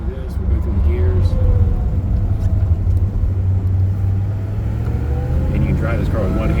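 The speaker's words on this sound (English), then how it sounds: "Do this, we'll go through the gears." A 1967 Pontiac GTO's 400 engine drones steadily while driving, its pitch dropping briefly as it shifts gear on a four-speed manual, with a voice talking over it.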